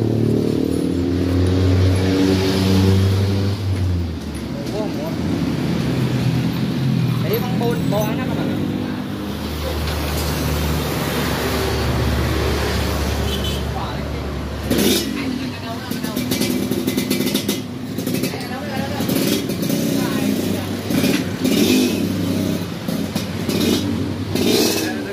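A Yamaha Jupiter Z motorcycle, 155 spec with a newly fitted 32 mm exhaust header, idles and blips its throttle in close, loud bursts of revving, with voices talking nearby.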